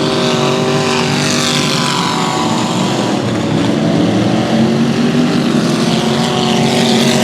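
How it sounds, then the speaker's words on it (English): Race car engine at South Texas Speedway, the No. 88W machine, bouncing off its rev limiter heading into the corners; a loud, sustained, buzzing engine roar with steady harmonics, close and continuous throughout with no talk. "The car bouncing off the limiter as we go into the corners."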